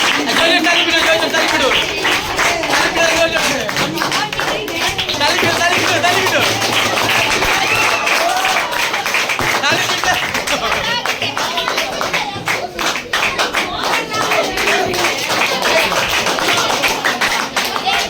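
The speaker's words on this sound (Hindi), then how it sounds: "चल ताली पिटो" A group of students in a quiz-competition classroom claps hands steadily throughout, with dense, sustained clapping mixed with crowd babble and some voices.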